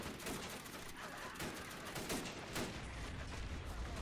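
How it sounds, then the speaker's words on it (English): MG08 machine guns fire in a World War One trench battle video game, a sustained, dense rattle of automatic gunfire layered with overlapping shots that continues loudly throughout. "Now we're gonna start hearing some of those MG08s going off."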